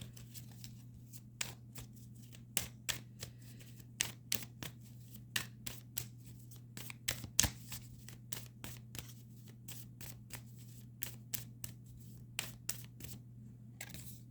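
Tarot cards are shuffled close by in a quiet room, with a long series of crisp snaps and flicks in a fairly even rhythm and no talking.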